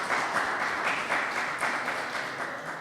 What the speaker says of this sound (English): These guys deserve a round of applause.